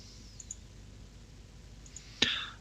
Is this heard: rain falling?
no